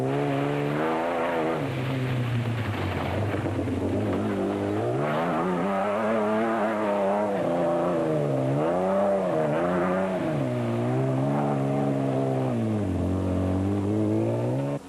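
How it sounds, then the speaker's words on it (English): Rally cars race a stage of the 2008 Sun City 400, one engine sustained and loud throughout, pitch swinging up and down with repeated revs and gear changes, close and continuous for the whole stretch. "Ford boys, Ferguson and West inching their way up the SP batting order with a nicely timed drive"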